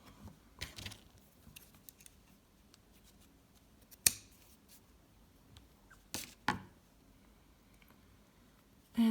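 Scissors snip crochet yarn in a few sharp, isolated clicks spread across a mostly quiet stretch, close and fairly crisp, with no talking.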